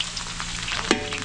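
Garlic sizzles steadily in a hot pan for pancit at an outdoor cooking event, with one brief clink of a utensil against the pan near the end and no talking.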